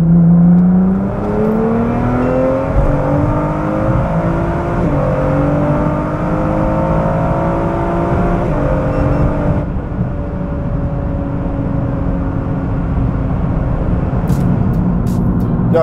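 A tuned 2012 Nissan GT-R with 1050cc injectors and downpipes with a valved exhaust accelerates hard, its engine note climbing through several gear changes in rising sweeps, loud and close from inside the car, with no talk.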